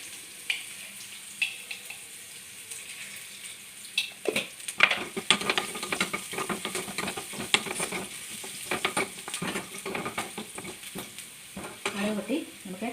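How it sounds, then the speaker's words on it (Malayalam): Mustard seeds spluttering in hot oil while tempering a Kerala-style rambutan curry: after a quiet start, a rapid burst of sharp pops and crackles rises and continues with sizzling, stirring scrapes amid the frying. "കടുക് പൊട്ടി നമുക്ക് 2 വറ്റൽമുളക് ഇടാം."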